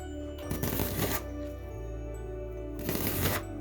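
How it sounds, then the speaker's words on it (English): A knife slices an onion thinly on a board in two close bursts of rapid crisp chopping, with quiet pauses between them and no speech. "you want this to cut thinly, as thin as you can"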